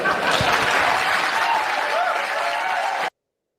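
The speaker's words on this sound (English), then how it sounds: "They're cheering for him." A town hall crowd cheers and applauds loudly and steadily for about three seconds, a dense wash of clapping and voices that cuts off abruptly.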